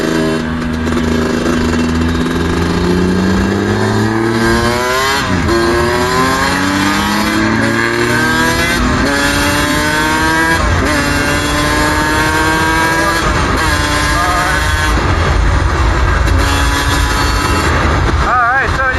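A dual-sport dirt bike ridden on a Texas road, its engine loud and close, pitch climbing in repeated sweeps as it pulls through the gears, with wind rush underneath.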